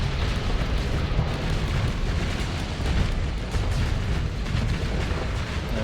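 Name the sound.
ships opening fire in video game Starsector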